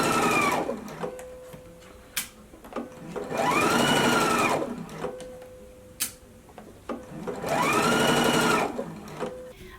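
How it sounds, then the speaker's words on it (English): A sewing machine stitches the side seams of a holiday dress at a 5/8 inch seam allowance in three steady whirring bursts, with clicks and a faint tone between runs, close and clear with no talking. "now we can go to the machine and go ahead and stitch them in place at a 5/8 of an inch seam allowance"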